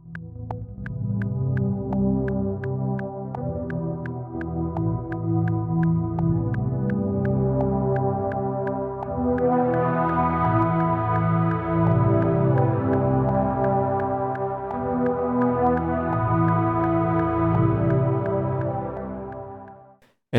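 A post-punk/darkwave synthesizer plays alone with a low-pass filter set fairly low for a warm, soft tone. It sounds as a steady, loud, pulsing sustained pad that brightens partway through and then fades at the end.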